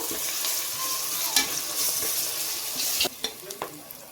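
Ginger garlic paste frying in hot oil gives a steady, close sizzle with occasional scraping clicks from stirring, and no voices over it.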